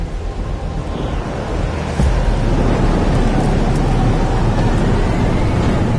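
Thunderstorm rain in the game Life is Strange: Double Exposure, a dense, loud downpour wash with deep rumbling underneath that swells abruptly partway through and then holds steady.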